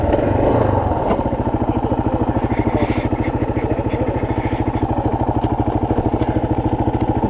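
A motorcycle engine running steadily at a roadside stop, a loud close rhythmic low-pitched pulsing idle that holds evenly throughout, with brief rustle at the start.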